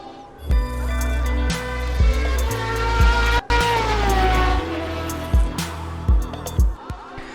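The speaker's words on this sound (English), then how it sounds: "There is a practice race going in the background." GT3 race cars, including a McLaren 650S GT3, lapping Suzuka in the RaceRoom racing game, with loud engine notes rising through the gears and shifting repeatedly, and several cars passing in sequence without any talk.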